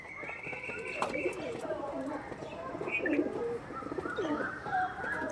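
Pigeons coo softly nearby with occasional chirps and light fluttering, while a person talks over them.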